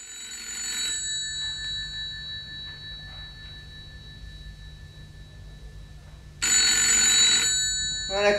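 A telephone bell rings in a short burst at the start, then falls silent, then rings again loudly near the end, heard in a quiet indoor room during a French radio mystery drama.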